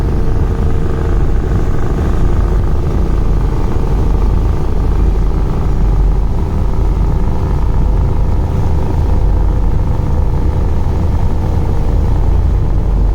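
Engine of the river passenger launch Sundarban 15 under way on a river, a loud, steady low-pitched rumble and drone with constant broadband wash and no breaks, heard close up throughout.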